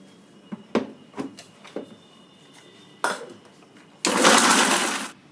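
Spice grinder processing chillies with salt and turmeric powder for tamarind pickle: a few light clicks and taps, then a loud, dense whirring grind that runs about a second close up.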